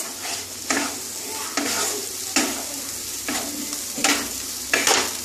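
Eggplant masala stirred while it fries in a pan over a raised gas flame: a continuous close sizzle broken by regular loud scrape-and-toss strokes about once a second, with no talking.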